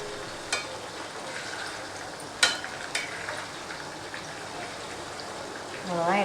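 Chicken 65 pieces fry in hot oil with a steady crackling sizzle while they are turned over, and a few sharp clinks from a utensil cut through. A voice speaks quietly over the frying.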